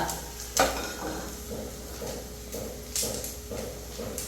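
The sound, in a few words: chickpeas frying in a pan, crackling and sizzling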